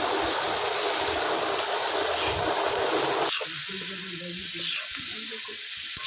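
Salt-rubbed green chilies with lime sizzling in hot oil for a homemade pickle, a steady hiss that continues while a utensil stirs. Partway through, a low, humming tonal background rises beneath the frying.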